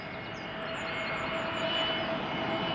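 An EasyJet Airbus A320neo arriving at Schiphol, a faint, steady jet whine with a thin high tone over a soft rushing hum, heard from a distance and swelling slightly.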